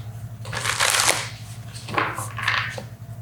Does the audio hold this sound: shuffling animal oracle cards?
yes